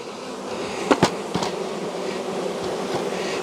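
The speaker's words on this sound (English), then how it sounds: "Get the bees off the side. Get the bees off the edge." Honey bees hum in a dense, steady buzz around a hive box, broken by a couple of sharp knocks early on, with no talking.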